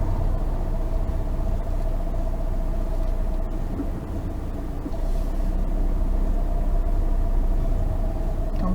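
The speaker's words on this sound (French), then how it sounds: "C'est juste je roule mais de moins en moins vite jusqu'à m'arrêter derrière le véhicule." A car slows steadily to a stop behind another vehicle during a French driving test, giving a constant low engine and road rumble heard from inside the cabin, loud and unbroken, with no talking.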